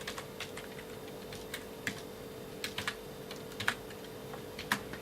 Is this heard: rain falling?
no